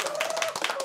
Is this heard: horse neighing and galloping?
no